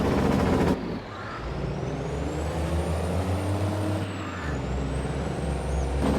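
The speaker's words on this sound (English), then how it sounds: "Sound like someone jackhammering. Hence Jake brake." A truck's engine brake in Farming Simulator 22: a loud, rapid, stuttering rumble that cuts out abruptly, followed by a steady low engine drone with a faint rising whine that swells again near the end.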